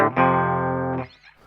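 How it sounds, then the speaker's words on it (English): An electric guitar chord through a switched-on distortion pedal, a single loud, buzzy, sustained crunch ringing for about a second before being cut off, playing alone. "So this is the point where your distortion goes on, kind of halfway through this shape here."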